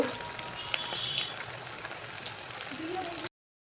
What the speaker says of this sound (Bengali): একদম মুচমুচে ভাজা আওয়াজ শুনে বুঝতে পারছেন